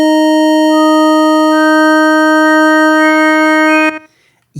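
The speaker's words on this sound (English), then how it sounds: "We've piled up a lot of sine waves, and we can say that that's additive." Stacked sine waves from a KV331 SynthMaster synthesizer in additive synthesis, a loud sustained pure harmonic tone with partials entering one by one, then cutting off abruptly near the end.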